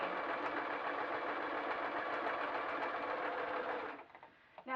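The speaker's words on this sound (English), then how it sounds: "I'm just going to push it through the machine." A sewing machine stitches elastic held taut onto fabric for a saddle cover, a fast, steady mechanical whirring run up close that stops near the end, followed by a few small clicks.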